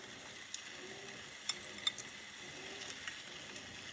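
Onion and red pepper fry for an omelette with a soft, steady sizzle, and faint ticks and pops break through now and then at a low level.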